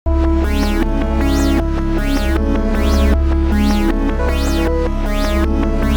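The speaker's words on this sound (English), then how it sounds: "So all of those new sounds reversed and cut up sounds like this." Loud, dense electronic music loops with swelling, reversed-sounding synth stabs that rise and cut off abruptly in a steady repeating pattern over a thick bass line.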